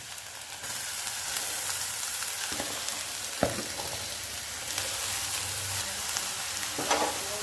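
Grated carrots fry in hot ghee with a continuous crackling sizzle, broken by several sharp scrapes and knocks of stirring against the pan.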